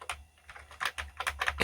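Keys pressed on an Amiga 600 keyboard, a string of irregular soft clicks and taps close by, faint and quickening toward the end with no talk.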